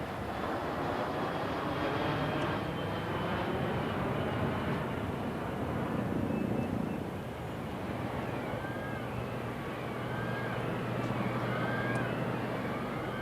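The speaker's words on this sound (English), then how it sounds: "This Singapore Airlines jumbo is the Boeing 747-400, the latest version" A Singapore Airlines Boeing 747-400 jumbo jet passes overhead at a Heathrow Airport flypast, a steady broadband engine roar that holds at constant loudness throughout, with a low drone underneath.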